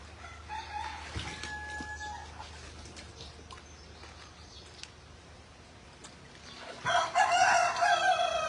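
A rooster crows near the end, loud and close, after a stretch of quiet background noise with a faint tonal hum earlier.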